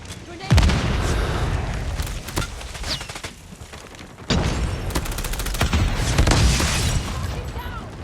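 Grenade blast and gunfire in a multiplayer Hardpoint match of a first-person shooter: a loud boom near the start, then dense bursts of shots and another heavy burst midway, with game announcer voice lines in between.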